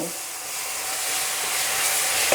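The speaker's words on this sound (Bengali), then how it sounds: "এবার আমি এর মধ্যে যে চিনির জলটা করেছিলাম সেটাকে অল্প অল্প করে দেব" Sugar syrup hitting hot ghee and wheat-flour halwa in a pan gives a loud, continuous hissing sizzle that builds slightly over a couple of seconds, heard close and without voices.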